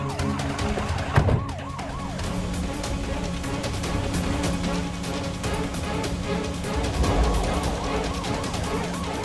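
A police car siren wails in a continuous warbling rise and fall, fairly loud, mixed with background commotion and an abrupt thump near the start.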